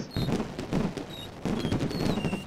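Fireworks display bursting in the fishing video game Fishing Planet, a dense run of crackling pops and booms in two rolling volleys with faint whistling tails, moderately distant.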